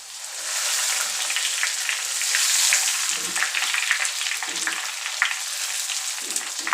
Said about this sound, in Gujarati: પૌવા તળવાના છે